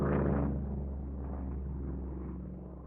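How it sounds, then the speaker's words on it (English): A Coast Guard Jayhawk helicopter passes at a distance, a steady low rumble that is loudest at the start and slowly fades, with no voices over it. "check out the Coast Guard helicopter flying by. This helicopter is called a Jayhawk."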